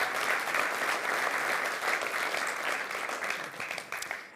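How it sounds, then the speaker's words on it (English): Audience applause for hackathon winners at the Apex 2023 XRPL conference, a dense, steady clatter of many hands from a sizable crowd that holds loud throughout and thins slightly near the end. "go ahead, give yourselves a round of applause."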